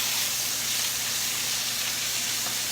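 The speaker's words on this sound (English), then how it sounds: "You want to get a good sear on your pork chops" Pork chops sear in a hot pan in a keto kitchen, giving off a loud, steady, even sizzle that hisses without pause from start to finish, close by and alone.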